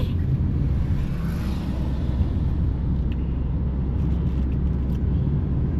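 Steady engine and road rumble from inside a car on a driving test route in Chertsey, a constant low drone with no breaks, loud and close.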